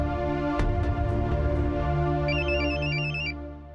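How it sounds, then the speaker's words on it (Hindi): A mobile phone rings with a bright, repeating melodic ringtone over a steady background of music and room tone, the tune entering partway through and continuing for about a second before fading. "ये तो कटोरी की रिंगटोन है।"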